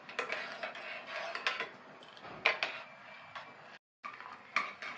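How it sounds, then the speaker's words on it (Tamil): Grated coconut stirred into payasam with a metal spoon against the pan, giving repeated scraping clinks and taps in a steady close rhythm, with a short silent gap near the end. "சேர்த்துட்டு நல்லா ஒன்றா இந்த மாதிரி கலந்து விட்டுக்கணும்"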